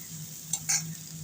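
Kochur loti (taro stolons) and potato frying in a pan with salt and turmeric, a low steady sizzle with a couple of brief utensil scrapes as the mixture is stirred.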